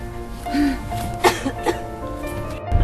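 A couple of short, sharp coughs rise over a steady background murmur, with faint voices and movement around them.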